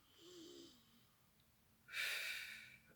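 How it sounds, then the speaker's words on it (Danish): A deep breath drawn in and blown out during a therapeutic tapping exercise: a soft, quiet inhale, then a louder, breathy exhale lasting about a second, heard alone and up close with no talking. "så trækker vi lige vejret dybt ind og puster."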